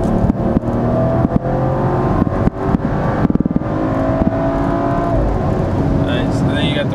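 A BMW X3 SUV engine builds as it accelerates from inside the cabin, with a rising steady drone and a few thumps, while people talk over it.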